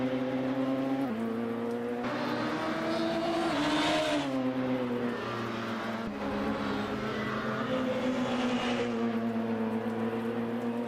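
Formula Student sim racing cars in a video game race, a loud, steady engine drone that rises and falls in pitch with upshifts and revving as the cars accelerate and brake, with no talk over it.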